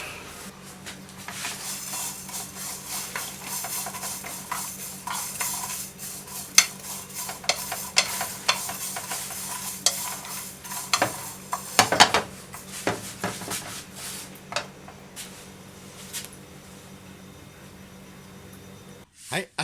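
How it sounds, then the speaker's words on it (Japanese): Sliced almonds and sesame seeds toasted in a frying pan over low heat: a soft sizzle with intermittent scraping and clattering as they are stirred, close by, while a person talks over much of it. "オーブンでやってもいいって書いてましたけども、フライパンでやっちゃいますね。"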